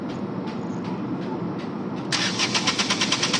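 A Mahindra KUV100 engine, checked for vibration and knocking during an injector test, idles with a low, steady rumble. Partway through it turns louder and harsher, with a rapid pulsing beat close by.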